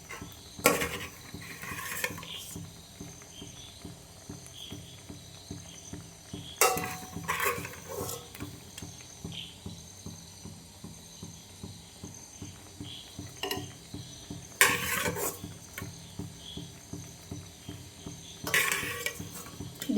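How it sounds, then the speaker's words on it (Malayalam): Pieces of dried fish are dropped one by one into a bubbling curry pot, with a few distinct splashy clatters spaced seconds apart over a steady simmer and faint ticking. "നമുക്കിനി ഇതിനകത്തോട്ട് മീൻ കഷ്ണങ്ങൾ പെറുക്കിയിടാം"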